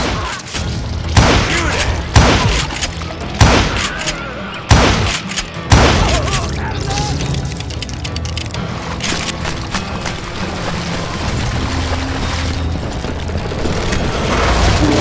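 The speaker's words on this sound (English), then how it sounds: "a fusillade of bullets come raining down from on high" Gunfire in the Call of Juarez Gunslinger video game: a fusillade of heavy, booming shots lands in separate bursts over the first six seconds, then gives way to a sustained rumble and clatter of battle.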